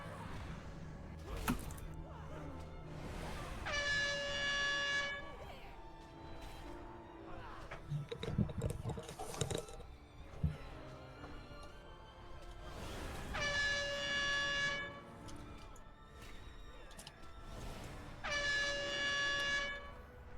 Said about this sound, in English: I really need to change my DBM sound so it's not that air horn every single time when that's going off.